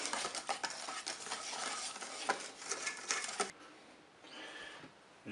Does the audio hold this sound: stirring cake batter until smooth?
yes